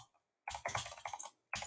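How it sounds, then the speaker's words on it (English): A loud computer keyboard clatters with a quick burst of close, crisp keystrokes, a short pause, then another brief flurry of clicks. "my keyboard is very loud"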